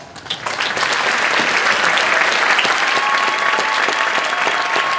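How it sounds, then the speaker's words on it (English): An audience applauds state teacher of the year Brian Betesh at a ceremony, clapping that builds quickly in the first moment and then holds as a loud, even, sustained roar of many hands. "Please join me in giving Brian Betesh a well-deserved round of applause."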